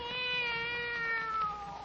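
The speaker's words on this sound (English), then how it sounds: "Oh, there's a cat now." A black cat sitting on a table gives one drawn-out, wavering meow, close and fairly quiet, with no other sounds around it.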